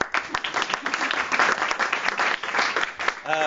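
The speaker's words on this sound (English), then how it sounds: "So we can give them a clap." An audience at an awards celebration applauds two students, a dense, steady burst of clapping from many hands that continues throughout, with a short vocal sound near the end.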